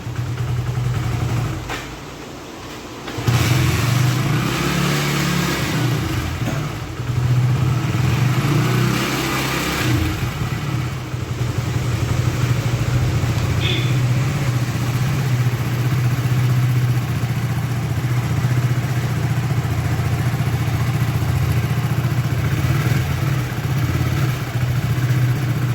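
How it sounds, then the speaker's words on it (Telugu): A Hero HF Deluxe BS6 motorcycle engine idles steadily and loudly up close after starting, with a firm low rumble and a mechanical clatter that hold for the whole stretch. Nobody speaks. "బండి అయితే స్టార్ట్ చేసినాం"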